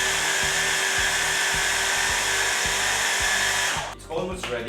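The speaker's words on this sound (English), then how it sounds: "so I'm using this small food processor" Small food processor blending homemade vegan pesto: a loud, steady motor whir running close by for about four seconds before it abruptly cuts off.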